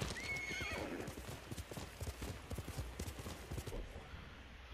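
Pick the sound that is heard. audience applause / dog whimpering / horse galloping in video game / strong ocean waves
horse galloping in video game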